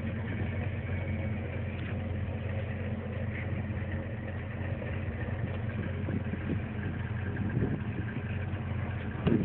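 A 1990 Musang LX car engine idling steadily at close range, a low, even rumble that holds without revving or talking for the whole stretch.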